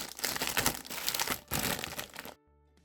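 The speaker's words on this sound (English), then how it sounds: "Need to fold up that box." A small toy packaging box for a Re-ment Forest Cake Shop set being folded up by hand, close crinkling and crunching cardboard in two bursts, then quiet.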